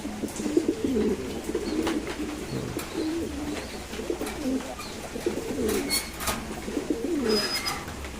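Fancy pigeons coo steadily in a loft on a rainy day, soft repeated rolling calls close by, with light patter and rustle behind them.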